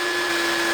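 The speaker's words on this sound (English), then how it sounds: "Just drilling the holes for the little blocks that are going underneath." A power drill bores holes into scaffold beams for campervan bed support blocks, a steady close whine with a strong tonal hum running unbroken through the short burst.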